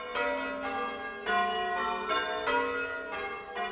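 Church bells of the Anglican carillons of Quebec ring in a steady sequence of loud, resonant strikes. The overlapping tones sustain into one another, with no voices present.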